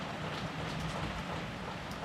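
Rain falls steadily outdoors, an even, moderate hiss that continues throughout with no voices.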